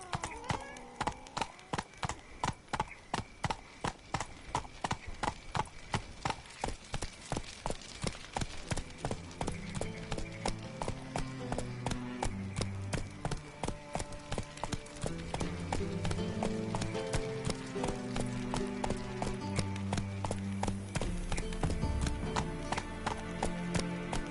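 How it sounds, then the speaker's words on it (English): A horse gallops in The Witcher 3: Wild Hunt, with loud, rapid, rhythmic hoofbeats throughout and a game music score building underneath. "Run, Roach"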